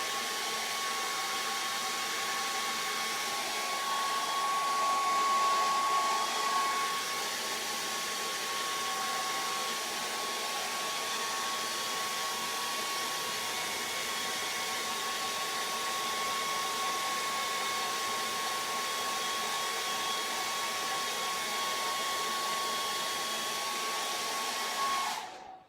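Hair dryer blowing on a watercolour landscape painting, a steady close whooshing roar with a faint motor whine that runs continuously for about 25 seconds before cutting off.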